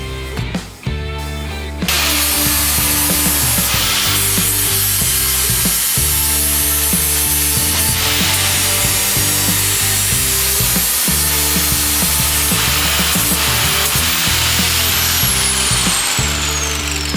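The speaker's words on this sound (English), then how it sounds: "Now we're going to grind it down." A power tool grinds down a fabricated VW sandrail shift linkage, a loud, continuous whining grind that runs almost the whole time with small shifts in pitch and load, starting after a brief pause.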